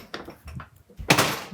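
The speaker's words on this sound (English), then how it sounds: "so these are saloon doors." Saloon-style swinging doors on a walk-in wardrobe in a tiny house, giving a few soft wooden knocks and then a louder, fuller thump as they swing, close by with no talk.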